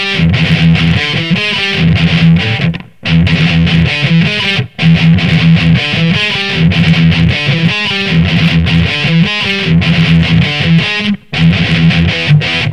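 A heavily distorted electric guitar plays a chugging palm-muted riff on the sixth string with galloping rhythms, loud and continuous, pausing briefly a few times.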